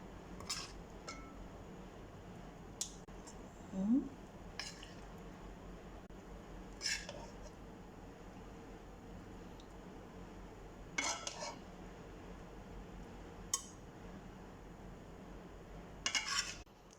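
Scattered clinks and scrapes of utensils against a metal pot as chicken pieces are arranged in it, with soft rustling between the sharper knocks, no talking.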